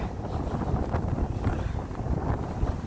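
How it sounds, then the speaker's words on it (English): Strong wind on Camber Sands beach buffets the microphone in a constant, heavy roar with gusty low rumbling and no voices. "it is so windy."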